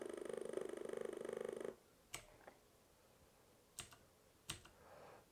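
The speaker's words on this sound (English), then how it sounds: "if we hold down F8 and press F10, we can get into the built-in ROM diagnostics." Key presses on an old retro keyboard: a dense buzzing run of rapid activity at first, then a few sharp, separate clicks spaced apart, close and quiet with no talking.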